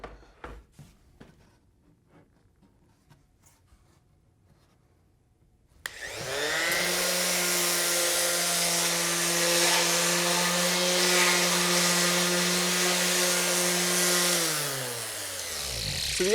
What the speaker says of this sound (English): when I'm sanding it, it's just vibrating these pieces around